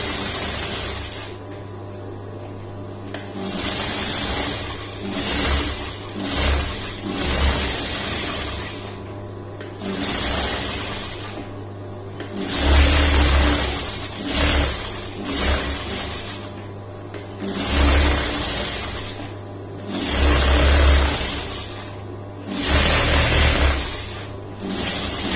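A sewing machine stitches a lined blouse in a series of loud motor runs lasting a few seconds each, separated by short pauses.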